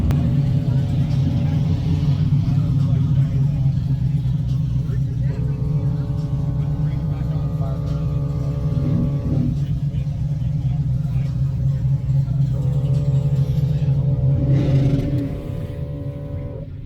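Trucks at Holley LS Fest East 2023, an LS-engine festival, give off a loud, continuous low engine rumble that holds steady for most of the stretch, with tonal drones rising over it before the noise eases slightly near the end.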